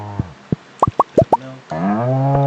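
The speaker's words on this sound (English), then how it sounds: "Let's feed the cows." Cartoonish cow moos and plopping blips from farm animals in Stardew Valley, several short rising calls followed by a longer, sustained moo, loud and close with no talk.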